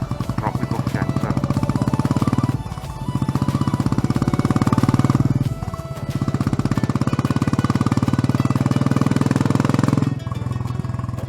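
A Machismo 500 motorcycle pulls hard uphill in second gear, its thumping single-cylinder exhaust loud and close with wind rush, briefly easing off twice between strong surges of throttle.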